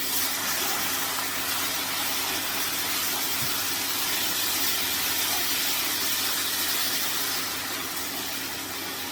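Water poured into a hot pan of sizzling prawn curry with paste, giving a steady broadband hiss and bubbling sizzle that holds loud and even throughout, with a low background hum underneath.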